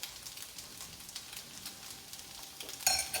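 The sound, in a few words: onions sauteing in olive oil in a pan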